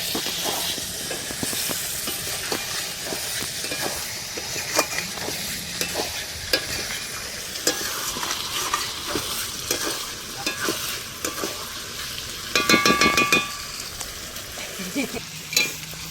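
Potatoes frying in a pan over a wood fire at an outdoor picnic cookout, with a continuous sizzle and repeated scraping stirs of a spatula, close and steady, ending in a brief louder burst of hissing.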